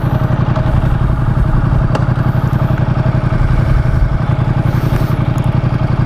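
Ducati X Diavel motorcycle engine runs close by with a loud, rhythmic throbbing idle, its steady mechanical pulse continuing throughout.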